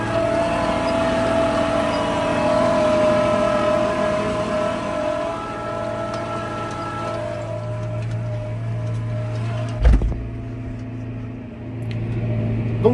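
A vibratory roller compactor with scraper teeth for cleaning the wheel path runs steadily close by, a continuous loud engine drone with a low vibrating hum, plus one sharp thump near the end.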